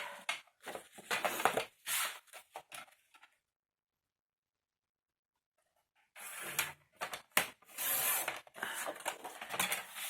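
Material being cut for a scrapbook-style craft tutorial, with scraping and rasping cutting strokes in two bursts separated by a few seconds of silence, close to the microphone.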